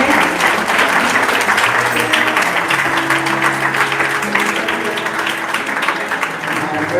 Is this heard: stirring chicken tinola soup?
no